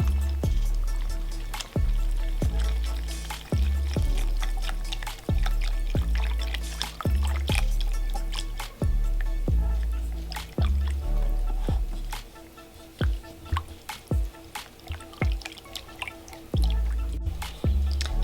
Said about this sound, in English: And then we're just gonna whisk it up.